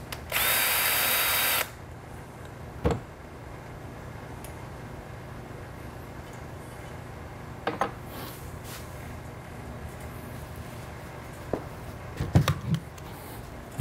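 A power drill whirs loudly in a short burst at the start, drilling a hole for a bluebird house predator baffle, then gives way to quiet room tone with occasional clunks and handling knocks.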